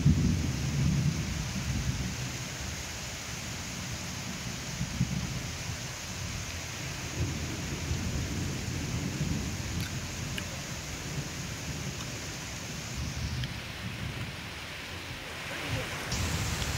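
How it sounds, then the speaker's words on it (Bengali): Heavy rain pours steadily in Jessore, with thunder rumbling low beneath the dense, continuous roar of water, loud and close throughout. "প্রখর বৃষ্টি হচ্ছে"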